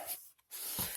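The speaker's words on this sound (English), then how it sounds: "This is just water in a spray bottle" Two quick hissing bursts of water from a spray bottle, misted close during shower curb polishing, separated by a brief pause.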